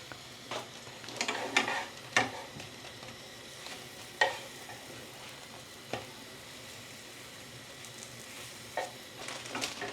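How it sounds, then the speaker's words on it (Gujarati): Pav bread toasting in butter on a pan, a low steady sizzle broken by occasional sharp scrapes and taps of a spatula against the pan, close and alone with no talk. "તો બધા બ્રેડ શેકી નાખો હવે"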